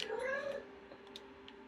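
A cat meowing in the Minecraft video game, one drawn-out near meow at the start fading into soft game ambience with a few faint clicks after.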